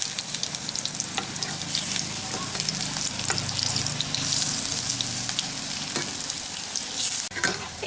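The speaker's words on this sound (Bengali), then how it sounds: "এখন এগুলোর দুই দিকই মিডিয়াম ফ্লেমে ডিপ বাদামি করে ভেজে নেব" Raw green banana koftas deep frying in a pan of oil over medium flame, a steady close sizzle and crackle running the whole time with scattered pops and light stirring clatter.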